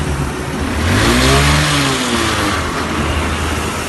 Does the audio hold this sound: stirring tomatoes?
no